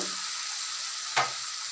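Cabbage frying in a spiced tomato masala gives a loud, continuous hiss and sizzle, broken once by a single soft thump partway through, with no talking.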